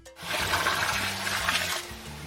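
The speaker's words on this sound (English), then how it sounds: "Out went the fire with a big hiss." Hissing rush of water poured onto a campfire, a loud broadband hiss that swells after a brief silent start and holds steady for about two seconds, with low tones underneath.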